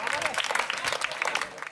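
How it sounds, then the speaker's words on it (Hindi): Audience clapping at a Hindi kavi sammelan poetry recital, a dense, steady patter of many hands for about two seconds, with voices mixed in. "क्या आप भी तालियां बजा सकते हो"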